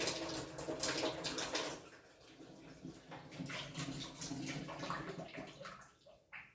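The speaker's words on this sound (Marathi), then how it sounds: "तुम्हाला त्याच्यात दाखवते पाणी कसं येते पूर्ण प्रेशर येतं" A kitchen tap runs at full pressure during dishwashing, giving a fairly faint but steady splashing gush of water that fluctuates slightly and tapers off at the end.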